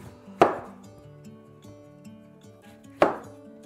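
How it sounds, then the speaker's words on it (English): Two sharp knife chops through lemons on a cutting board, spaced about two and a half seconds apart, close and crisp over a quiet kitchen background. "Now cut each lemon in half."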